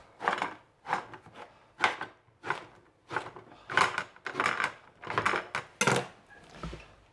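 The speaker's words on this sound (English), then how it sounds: "Chop it into small pieces." A knife chops part-cooked baguette into small pieces on a chopping board, about a dozen distinct, fairly loud thuds at an uneven, unhurried pace, close by with no talking.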